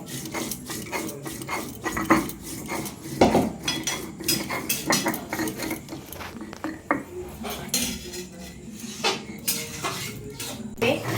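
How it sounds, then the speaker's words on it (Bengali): Spices are ground by hand on a flat grinding stone (shil) in a home kitchen, making close, rough, rhythmic scraping strokes with intermittent knocks and clatter. "ওইদিকে দেখো মশলা বাটা হচ্ছে, মশলা শিলে নিয়ে নেওয়া হয়েছে।"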